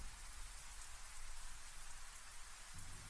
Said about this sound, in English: It's hard to pick up on the words over the rain, over the thunder.